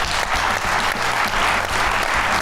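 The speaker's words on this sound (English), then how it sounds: "Give us a round of applause" An audience claps steadily in a round of applause at a real estate investing event, a dense, continuous patter of many hands with no voices over it.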